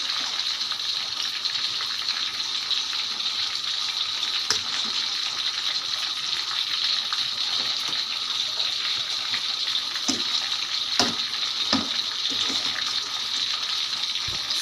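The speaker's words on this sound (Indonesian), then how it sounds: "bawang merah dan bawang putih dalam keadaan mulai mendidih gitu ya di dalam minyak" Shallots and garlic fry in hot oil in a home kitchen, a steady close hissing sizzle that holds for the whole stretch with a few small pops and clicks and no talking.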